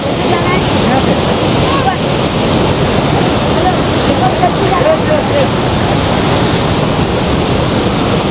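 A waterfall beside the Kailash Mansarovar trek route in cold mountain terrain, heard as a loud, continuous broadband roar of rushing water with wind buffeting the microphone, steady throughout with no clear gaps.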